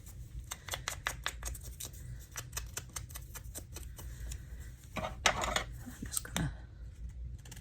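Scissors snipping through paper for a junk journal map page, a quick run of crisp close cuts with a few louder snips near the end and a brief spoken phrase.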